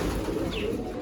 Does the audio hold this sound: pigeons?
yes